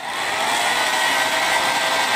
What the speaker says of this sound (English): I'm also going to try and help it with an hair dryer.